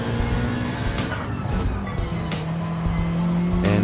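Racing cars in the Gran Turismo 7 driving game roar with steady engine tones and squealing tires as they run close together through a race, the engine pitch shifting up and down.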